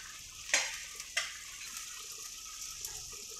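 Chicken karahi with ginger-garlic paste stirred in a pan over a low flame, a steady soft sizzle with two clear scraping strokes near the start and faint clinks after, heard close with no speech.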